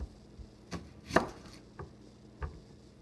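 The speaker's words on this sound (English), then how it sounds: "And then cut it into 4 sections." A knife chops a peeled onion into sections on a board, with about five sharp, close cuts spaced unevenly over a few seconds and quiet pauses between them.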